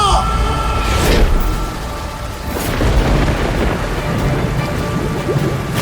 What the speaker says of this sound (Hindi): अचानक जोर की बिजली कड़की